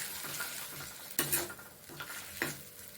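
A spice paste of ground coriander and tomato fries in a pan for a cabbage dish, a soft steady sizzle broken by a few louder scrapes and clinks of a spoon stirring, close and alone.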